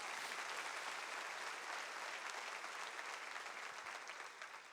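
Sustained applause from a church congregation, a dense, even wash of many hands clapping together that holds steady, then eases slightly near the end.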